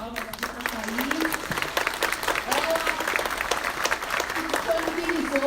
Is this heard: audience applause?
yes